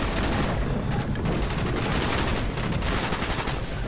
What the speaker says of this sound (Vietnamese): trong cái phần này khẩu AK-47 hơi bị giật luôn á